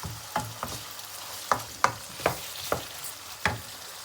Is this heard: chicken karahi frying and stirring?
yes